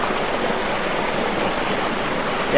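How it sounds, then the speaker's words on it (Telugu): Irrigation water rushes through an open channel on a Konaseema coconut farm. It makes a steady, close, unbroken wash with no voices over it. "ఈ వాటర్ ఇలాగెళ్ళి ఈ బోదంపడ వెళ్ళి ఆ రైతు ఏ తోటలో పెట్టుకోవాలనుకుంటున్నాడో ఆ తోటలోకి వాటర్ వెళ్తుంది"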